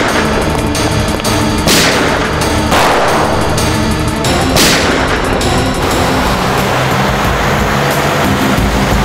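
Rapid gunfire crackles in a TV crime drama shootout amid loud, chaotic action noise, with a few sharp bursts standing out over a dense rumbling background.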